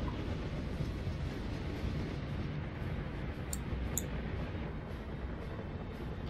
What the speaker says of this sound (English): Let's ride along with the train.